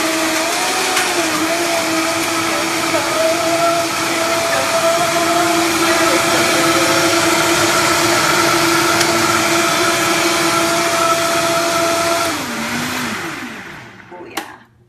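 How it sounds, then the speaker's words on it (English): A Vitamix blender whirs loudly and steadily while blending a plant-based smoothie, holding a constant high-speed motor drone for about twelve seconds before winding down and stopping near the end. "Over to our fancy Vitamix. And while it makes a loud noise, I will dance for you."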